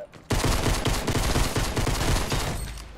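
Rapid, sustained automatic gunfire in a shooter video game, a loud rattling stream of shots starting abruptly and running nearly three seconds, with little talk.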